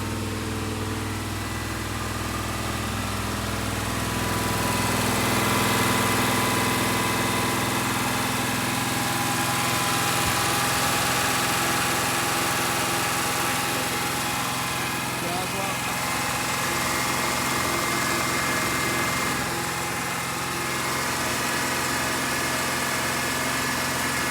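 A 1964 Chevrolet Impala engine runs smoothly and steadily at idle, a loud even hum with a slight rise in revs early on, with no voices over it.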